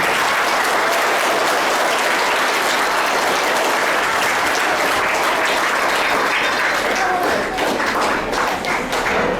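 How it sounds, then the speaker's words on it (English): A crowd at a primary school soccer celebration applauding steadily and loudly, dense clapping that holds throughout without a break. "Can we have a big round of applause for them?"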